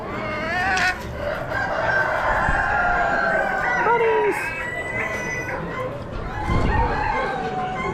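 Sussex chickens at an Amish animal auction, with roosters crowing and hens clucking in a busy barn, several overlapping calls rising over steady crowd noise while someone talks nearby.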